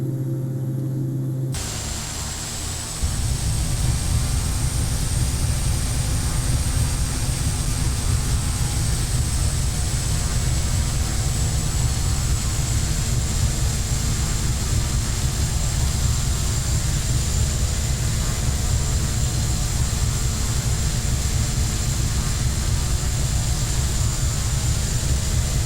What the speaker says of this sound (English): Something tells me I'm overspeeding as the plane is shaking.